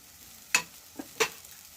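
Potato and pea filling being stirred with salt and sugar in a pan, soft sizzling under two crisp spatula scrapes and a light tap, close and brief.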